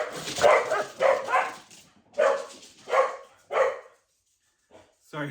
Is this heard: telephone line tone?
no